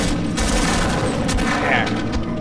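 Rapid gunfire from the Half-Life mod Edge of Darkness fills the whole short stretch, dense and continuous under game noise.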